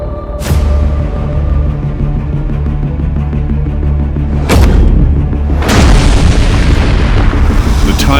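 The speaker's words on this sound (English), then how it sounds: "The time of the explosion was obviously delayed." Explosions in an animated doomsday survival film: three loud, broad booms, one at the start and two in quick succession later, each followed by a heavy rumbling roar that fills the scene.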